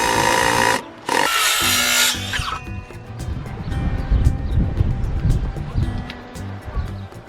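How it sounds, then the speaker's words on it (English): Power drill boring screw holes in wood, a loud close whine in two bursts with a brief break, then gives way to quieter rubbing and handling noises. "I'm actually using different screws for every hole I'm drilling"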